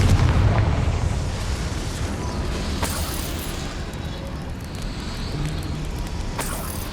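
A Confringo spell explosion in the video game Hogwarts Legacy, a loud rumbling blast with a deep low-end roar that slowly fades, with brief sharp crackles over the decay.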